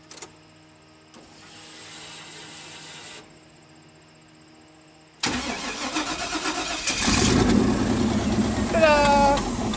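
A turbocharged LS V8 running Speeduino engine management cranks and fires after a quieter lull, then settles into a loud, rough idle with some high whining squeals near the end.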